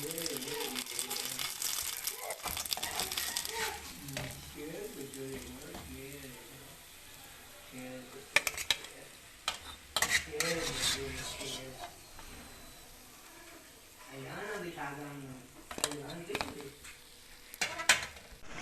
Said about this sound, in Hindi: व्यूअर्स, समोसे हमारे अच्छे से फ्राई हो गए हैं। अब इन्हें निकाल लेंगे।